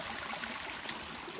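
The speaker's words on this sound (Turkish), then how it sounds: "Dere yanımızda." A stream fed by a waterfall flows beside a rural field, a steady, full rushing and gurgling of water filling the whole moment with no voices.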